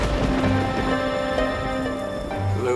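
Heavy rain from a thunderstorm pours steadily and loudly throughout as a continuous dense wash, with no voices and no distinct thunder clap.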